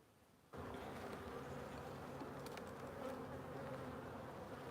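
Bees swarming around an opened backyard hive during an inspection, a steady close buzzing drone that starts abruptly and continues without talk.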